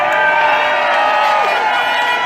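Massive crowd at an outdoor rally cheering and shouting loudly, a dense continuous roar of many voices with whoops, close and sustained.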